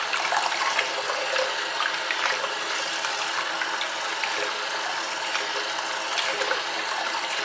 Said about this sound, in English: now we're going to rinse out the conditioner